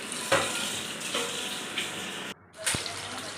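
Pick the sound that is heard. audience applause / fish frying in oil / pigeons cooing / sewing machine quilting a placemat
fish frying in oil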